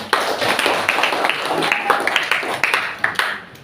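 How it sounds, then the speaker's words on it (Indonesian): A class of students claps for everyone, a steady burst of near applause filling the room with sharp overlapping claps, with a few voices mixed in. "kasih tepuk tangan buat semuanya"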